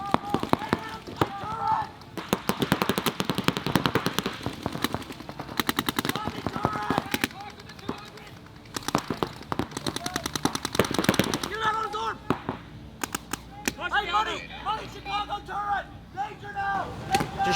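Rapid bursts of automatic gunfire and single shots from a competitive video game match, dense and continuous through most of the stretch, with people talking over the action at several points.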